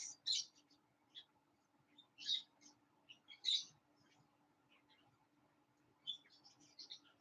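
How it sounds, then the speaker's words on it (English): Quiet indoor setting with bursts of high, thin chirps and squeaks from small birds, coming in short clusters separated by near silence. "sorry if my birds are being a little excessive today"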